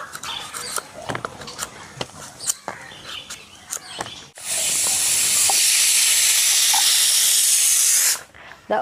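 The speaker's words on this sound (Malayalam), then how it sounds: "ഇതാ ഒരു വിസിൽ വന്നു, നമ്മളിതാ തീ കുറച്ച് വെച്ചു കേട്ടാ." A pressure cooker cooking a curry lets out a loud, sustained steam whistle lasting about four seconds. Kitchen clatter and small knocks come before it.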